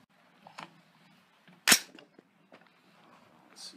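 A single sharp AR15 rifle shot firing a 6x45 95 grain SST load, one loud crack near the middle amid quiet outdoor background, with faint small knocks around it.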